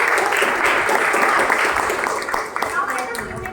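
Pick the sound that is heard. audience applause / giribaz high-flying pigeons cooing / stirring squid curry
audience applause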